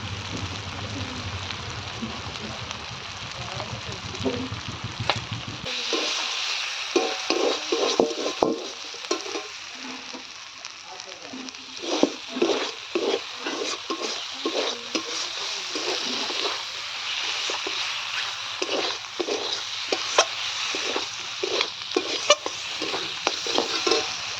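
A spoon stirs and scrapes soybean bora curry as it sautés and sizzles in a pan. Steady, rhythmic stirring strokes sound close by after a quieter opening stretch.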